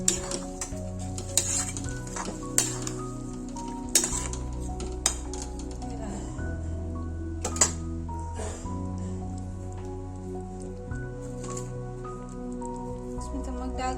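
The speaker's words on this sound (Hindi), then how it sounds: "अब इसमें फ्राई वाली न्यूट्री मिला देंगे" Fried soya chunks being stirred into a soy, tomato and chili sauce mixture with cornflour in a pan, with repeated clinks of a spoon against the pan over a low sizzle and background hum.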